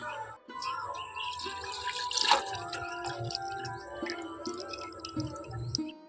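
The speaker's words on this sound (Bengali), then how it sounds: "এখন দুধটা আমি এখানে ঢেলে নেবো" Milk poured into a steel tiffin box to set curd: a quiet, irregular liquid trickle and dripping against metal, with small clinks and a brief louder splash partway through.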